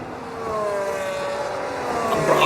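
A race car in a racing video game at the Australian Grand Prix overtakes on the inside, its engine whining in a steady rising tone, loud and close, with faint rival engines underneath.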